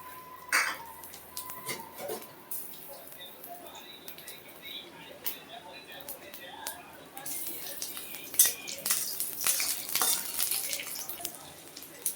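Garlic and green chillies fry in mustard oil in a hot kadai. A low sizzle swells into a louder, hissing fry in the second half, with scattered clinks and scrapes of a utensil against the pan.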